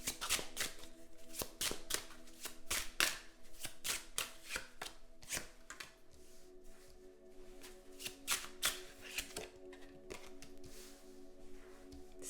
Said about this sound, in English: Let's get all the cards out.